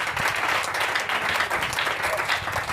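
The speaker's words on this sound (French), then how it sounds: "Là où tu es là-bas, Acclame Jésus, acclame Jésus." A church congregation applauds during a Sunday evening sermon, steady sustained clapping from a crowd filling the room with a dense wash of sound.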